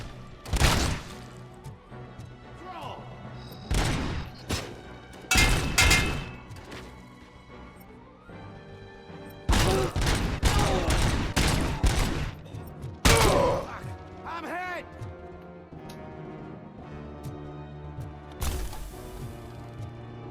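Heavy gunfire in Robocop: Rogue City comes in irregular loud bursts and single shots with thuds and impacts, separated by quieter stretches of game ambience.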